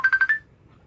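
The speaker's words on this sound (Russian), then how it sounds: "Да, ему звонят, Ика." A mobile phone rings for an incoming call during an interview, a short burst of four quick electronic tone pulses that stops after under half a second, leaving near silence.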